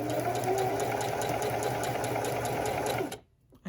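A sewing machine stitches fabric in a steady, fast mechanical hum with a rhythmic needle patter, loud and close, running without pause until it stops abruptly near the end.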